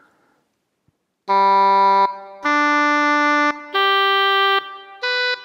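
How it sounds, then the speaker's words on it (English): English horn, a double reed woodwind, plays four sustained notes with a nasal, reedy tone, each held about a second with short gaps, loud and close with no talk over it. "And then we've got English horn."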